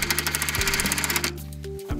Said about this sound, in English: I'm gonna put the screw right into the wood. And it's a pretty big screw